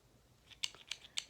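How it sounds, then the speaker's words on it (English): Small spring-loaded craft scissors snipping yarn while making a pom pom pillow on a knitting loom, three quick, crisp close-up snips about a quarter second apart, faint and alone. "Then I'm going to take my scissors."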